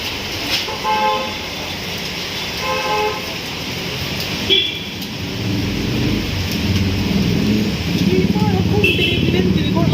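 Steady rain with low rumbles of thunder, a few short car horn toots, and people talking underneath, in Kerala.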